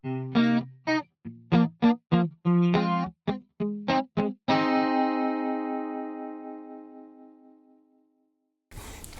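A series of crisp electric guitar chords strummed in a steady bachata rhythm, low note first with the two high strings accented, ending on a long ringing chord that slowly fades out.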